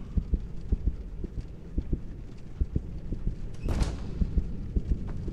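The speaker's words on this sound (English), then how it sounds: "It's hard to hear with the damn heartbeat" A steady, throbbing heartbeat from the horror video game The Joy of Creation pulses evenly throughout, low and thudding, with a brief whooshing swell partway through.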